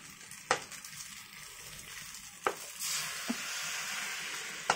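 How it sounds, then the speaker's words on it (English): Kway teow and yellow noodles are stir-fried with soy sauce in a hot pan, giving a soft steady sizzle broken by a few sharp scrapes and clanks of the spatula, close and without talk. "can you fry? I fry a little bit. Yeah, soya sauce."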